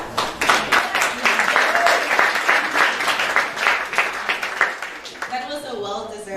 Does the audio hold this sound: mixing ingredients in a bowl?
no